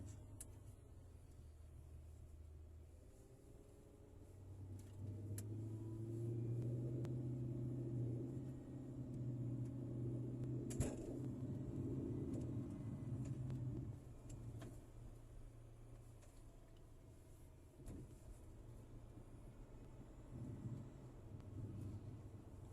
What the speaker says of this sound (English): we'll give it a test run while it's cold